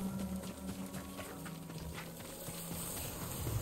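Horse hooves clip-clopping in the open-world samurai video game Ghost of Tsushima, a faint, steady rhythm of hoofbeats under a broad bed of wind and ambient game sound.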